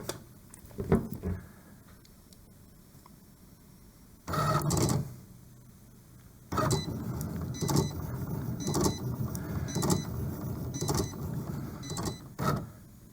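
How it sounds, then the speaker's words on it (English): A Cricut cutting machine runs its pre-feed cycle, whirring in bursts of motor sound with a longer loud run and then a rapid series of clicking, rattling feed pulses, close and clear with no talking. "Now the machine's going to go through its pre-feed cycle, so it's going in and checking that the material in the machine is long enough to cut with."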